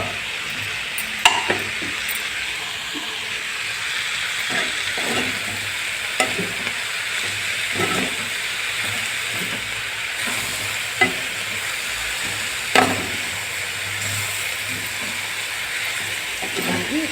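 Banana flower curry cooking in oil in a pan, a continuous sizzle with intermittent scraping and stirring knocks, steady and moderately close.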